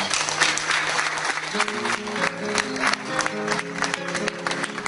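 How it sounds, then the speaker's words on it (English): Crowd applauds the new IBF heavyweight boxing champion, clapping and cheering over a backdrop of music with sustained tones, fairly loud and continuous throughout. "Firstly, we have a round of applause for the new heavyweight champion of the world."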